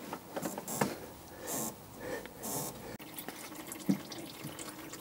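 Steering fluid drains from the disconnected feed pipe of the power steering pump on a Land Rover Defender 300Tdi, with faint irregular drips and trickling plus some rustling nearby.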